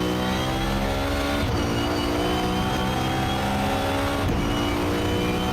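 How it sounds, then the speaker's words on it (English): A supercar engine revs hard through a run of downshifts, its loud, steady roar carrying continuous engine tones and rising and falling in pitch, with no talk over it. "Are the downshifts like blipping and rev matching, or is it just kind of bucking the car into the next gear?"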